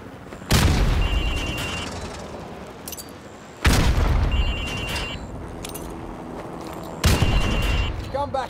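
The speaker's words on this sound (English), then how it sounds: "Now throw a grenade into windows 2, 3, and 4." Three heavy grenade blasts in a Modern Warfare Remastered training course, each a loud booming burst with a long rumbling decay, spaced a few seconds apart amid faint game effects and chatter.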